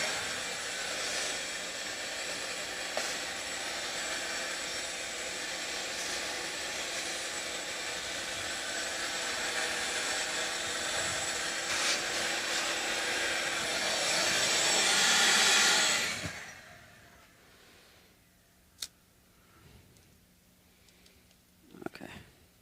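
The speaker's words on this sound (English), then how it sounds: "Oh, let's vacuum out first." A vacuum cleaner sucks dust out of the routed cavities of a Telecaster-style guitar body, a loud steady whine for about fifteen seconds before cutting off, followed by quiet handling clunks.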